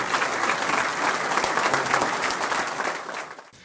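A gathering of evangelical leaders and military police gives a loud, full round of applause, with dense continuous clapping from many people that holds steady before easing off slightly at the end.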